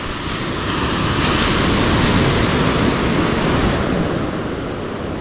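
Sea waves roar close by in a broad, continuous rush of surf on a calm sea that swells slightly and then eases, with wind noise blended in.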